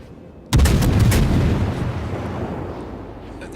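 Heavy warship guns firing aboard HMS Belfast in a naval video game, with a sudden loud booming blast that rolls into a long, fading rumble.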